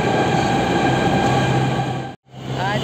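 Delhi metro train at Shaheed Sthal station in Ghaziabad, a loud steady rumble and hum of the train with a brief cutout near the end, then a thin rising squeal as the rumble resumes.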